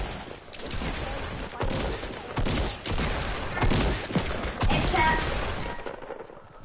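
Double pistols fire in a PS4 shooter game in a run of sharp, loud bursts spaced unevenly over a continuous gameplay backdrop.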